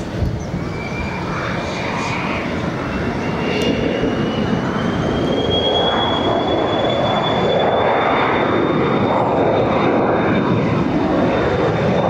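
A Turkish Airlines Airbus A330-300 departs Barcelona. A loud, continuous jet roar builds slightly over twelve seconds, with a thin engine whine rising through it and no talking.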